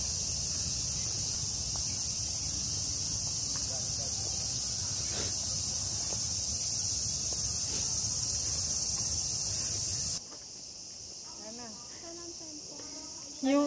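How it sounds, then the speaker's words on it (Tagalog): Many crickets chirping in Ueno Park, Japan, a dense, continuous high-pitched shrill that fills the air, with faint footsteps and rustling beneath, until it abruptly drops away to a quieter background near the end. "Gantong sound na madaming kuliglig."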